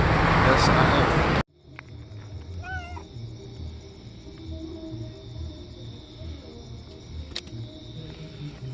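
A small kitty meows a few times, soft and close, over steady outdoor background noise following a brief loud burst at the start.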